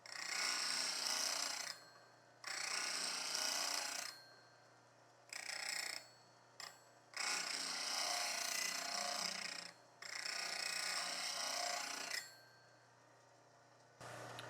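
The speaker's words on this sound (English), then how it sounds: "start to grind a bunch of chisels down to get that primary bevel reestablished at 20 degrees" Chisels are ground on a CBN grinding wheel to restore their primary bevel, making a steady, harsh hissing grind in five long passes broken by short pauses over a faint low motor hum.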